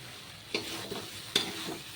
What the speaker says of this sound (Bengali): চলুন একটু নেড়ে চেড়ে আবার কতক্ষণ রেখে দিই